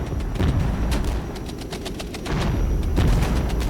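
Incoming cluster ammunition artillery fire in the war game Regiments, a steady roar of overlapping blasts and rapid crackling impacts that swell again near the end, loud and continuous with no voices.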